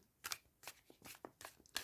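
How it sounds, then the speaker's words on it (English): A Mystical Cats Tarot card deck being shuffled by hand, with a run of quick, crisp riffling bursts at an uneven rhythm, close and fairly quiet with no talking. "let's give it a good shuffle"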